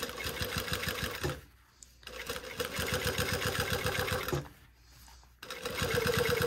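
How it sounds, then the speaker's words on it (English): A sewing machine quilts fabric near a seam line in close, fast bursts of rapid stitching, with two brief pauses between runs. "And I'm sewing about, I don't know, 1/16 of the way from the seam line."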